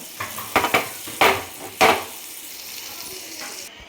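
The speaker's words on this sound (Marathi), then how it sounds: "याच्यामध्ये आपल्याला थोडंसं बटर टाकून घ्यायचं आहे आणि छान वितळून घ्यायचं आहे आपल्याला" Butter melts in a hot pan with a soft, steady sizzle, punctuated by several sharp scraping and clinking strokes of a utensil against the pan, close and moderately loud.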